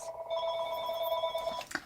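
A telephone rings with a single bright electronic trill lasting about a second and a half, fairly close and clear in a quiet room, followed by a brief knock as it stops.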